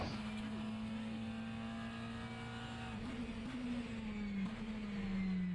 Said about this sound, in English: These official GT3 cars in rFactor are absolutely fantastic.